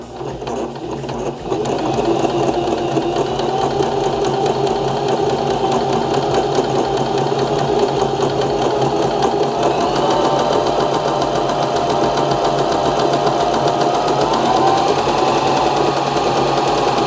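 A Baby Lock Zest home sewing machine stitching continuously with the needle down, giving a loud, close, steady mechanical whir and rapid rhythmic clatter that keeps going after a brief quieter start.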